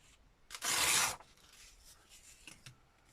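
A paper sticker for a keepsake birthday card binder is trimmed, giving one short, rasping cut at close range in an otherwise quiet room, followed by a few faint rustles.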